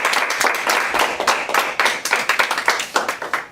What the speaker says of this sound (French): c'est Elisa, bravo, on l'applaudit également